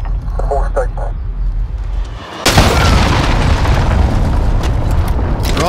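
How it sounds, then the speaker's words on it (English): A cruise missile strike in Call of Duty Modern Warfare lands with a sudden, massive boom after quieter gunfire, followed by a long, loud roaring rumble and debris noise that fills the rest of the moment. "Enemy cruise missile incoming!"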